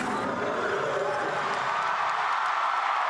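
A gymnastics meet crowd cheers and applauds after a floor routine, a loud sustained roar of voices and clapping filling the arena from start to finish.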